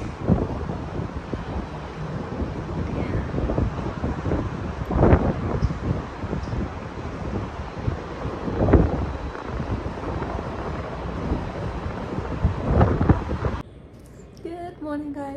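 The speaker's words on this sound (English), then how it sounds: "It's so windy." Strong outdoor wind buffets the microphone in a continuous, loud roar that swells into heavier gusts several times before easing slightly near the end.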